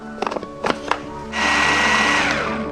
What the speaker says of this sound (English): 3 pinches of salt, pepper, 1-2 tablespoons of olive oil into a blender and mix everything